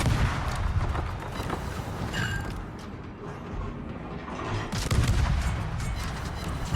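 Torpedo hits bursting against enemy warships in a naval combat game, with the German destroyer Z-34 engaging. Loud, continuous rumbling booms and clatter run through the whole stretch, swelling again near the end, with no voices.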